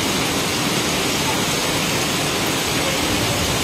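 Steady, dense hiss of heavy rain falling continuously in Barugo, Leyte, Philippines, loud and unbroken throughout.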